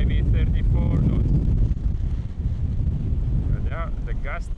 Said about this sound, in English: But yeah, the gust is coming.